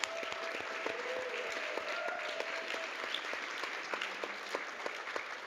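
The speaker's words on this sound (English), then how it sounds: "Let's give them a round of applause." Steady applause from a conference audience at an airport business conference, a dense, continuous wash of clapping that carries on throughout at moderate distance, with a few faint voices mixed in.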